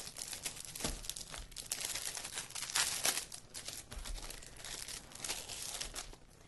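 Paper envelopes are handled close up, giving soft irregular crinkling and rustling bursts with occasional sharper crackles, quiet and without speech.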